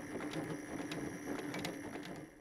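A sewing machine runs a straight stitch on fabric with a steady, fast mechanical whir and rhythmic clicking, close and moderately quiet.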